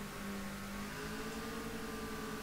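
Racing car engines rev and whine in the street racing video game Super Street The Game, a steady mid-pitched drone that holds through the short stretch, faint and without talk.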